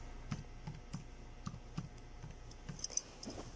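Irregular keystrokes on a computer keyboard while entering text into an Excel spreadsheet, a steady run of soft clicks close by with no talking.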